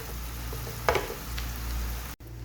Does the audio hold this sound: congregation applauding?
no